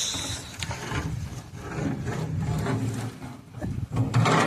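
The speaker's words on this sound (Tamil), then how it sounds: "தக்காளி போட்டாச்சு கிண்டிக்கிட்டு இருக்காங்க" Chopped tomatoes are stirred into biryani in a large pot over a hot fire, giving repeated close scraping and rubbing strokes of a ladle against the pot, uneven in rhythm, with clattering bumps.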